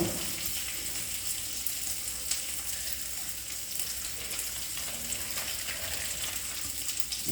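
Spices sautéing in a pan while a coconut milk biryani is cooked, a steady soft sizzle and fry with faint stirring, heard alone and fairly quiet.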